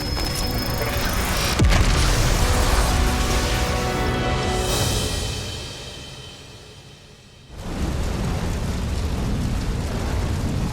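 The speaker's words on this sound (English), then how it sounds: "Was an explosion." A big explosion in Xenoblade Chronicles 3, a loud sustained rumbling blast with a sharp crack near the start, fading into a brief lull before a second roaring burst resumes.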